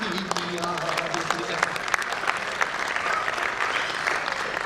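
Audience at a comedy show clapping loudly and continuously, a dense crowd of claps close by that holds steady throughout.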